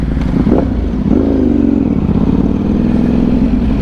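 A 2025 Ducati V4S motorcycle, ridden during break-in and kept under 7,000 RPM, gives a loud, close, steady engine drone with slight rises in pitch as it revs, heard alone without any talk.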